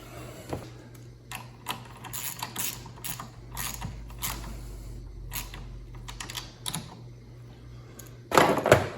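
Tightening the negative battery cable on a 2023 Lincoln Aviator with a ratchet: close, quiet bursts of rapid clicking and small metallic taps, ending in a louder clatter.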